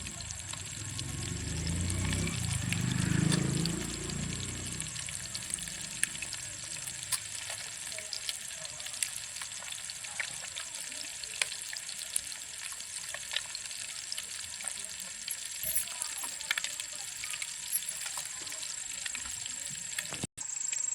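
Vavva fish (pomfret) frying in oil on a griddle, a steady soft sizzle throughout, louder with a low bubbling rumble near the start, no voices.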